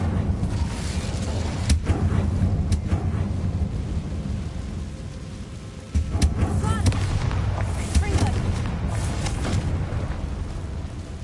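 Booming spell blasts and fiery bursts from Bombarda and Incendio in the Hogwarts Legacy video game, a dense run of heavy thuds and crackling explosions over rumbling background noise.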